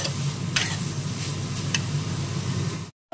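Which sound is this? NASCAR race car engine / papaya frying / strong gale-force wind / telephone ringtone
papaya frying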